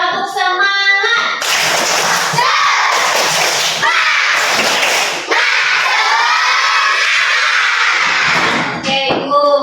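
Loud, energetic group of children in an Indonesian classroom clapping and shouting together in a lively burst of spirit clapping, with rhythmic claps and cheering filling the room close by.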